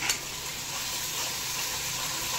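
Steady oil sizzle from paneer frying in a pan, a continuous close crackle with no pauses or talk.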